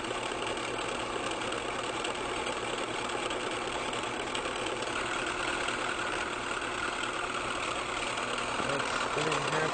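A car engine idles low at about 550 RPM, a steady rough rumble with a faint knocking texture, close and constant for the whole stretch.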